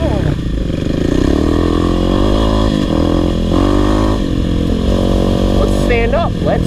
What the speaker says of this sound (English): Get active on the dirt bike.